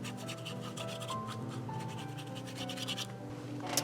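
Distress ink is rubbed onto the rough edges of paper for a handmade book box, making soft, scratchy, repeated rubbing strokes up close over a faint tonal background.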